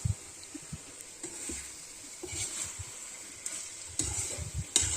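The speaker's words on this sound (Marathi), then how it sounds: "सर्व मसाले घातल्यानंतर गवार आपल्याला तेलामध्ये छान परतून घ्यायचे आहे" Cluster beans and potatoes sautéed with spices in oil over a wood-fired chulha give a steady, faint sizzle, broken by intermittent soft stirring scrapes and a few sharper knocks.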